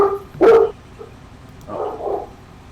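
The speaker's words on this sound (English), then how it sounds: "Noisy dog." A dog gives one sharp, loud bark nearby, followed after a pause by a softer, muffled bark or whine at a moderate distance.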